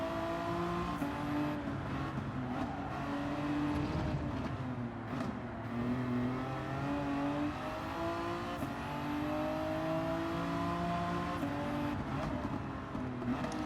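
Race car engine in Gran Turismo 7 climbing and falling through revs with gear changes, a loud continuous whine rising in pitch over several stretches, heard alone.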